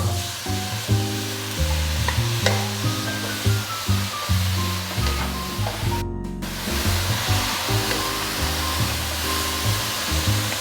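Chili fries in a very hot pan with a continuous loud sizzle, layered under steady background music.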